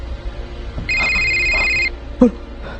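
A phone rings once with a bright electronic tone lasting about a second, followed by a short thump and faint background sounds.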